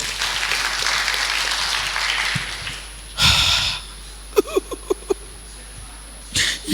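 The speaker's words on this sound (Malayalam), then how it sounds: "കർത്താവിന് വേണ്ടി ഒന്ന് കൈയടിച്ചോട്ടോ." An audience at a sisters' retreat claps for the Lord, with a burst of applause at the start that fades within a few seconds, then quiet breathing and brief sniffs, with another short clapping burst near the end.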